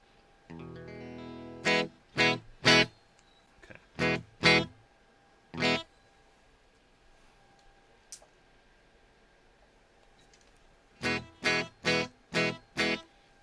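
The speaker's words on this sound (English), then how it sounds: "So we got a nice clean guitar sound." A clean electric guitar, played straight from the amp into a recording interface, sounds in short separate strummed chords, an opening arpeggio and then clusters of bright bursts with gaps of silence between them.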